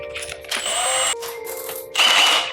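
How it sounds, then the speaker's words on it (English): A power drill boring a 6 mm hole for wall plugs during home improvement work, running in two loud bursts of steady whining drill noise with a brief lull between them, close up and without talk. "If you drill a hole, you get all the dust going."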